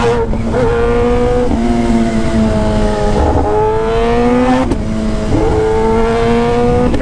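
A Kawasaki ZX10R sport motorcycle being ridden, its engine loud and close, with steady revving that rises and falls through several gear changes under constant wind rush.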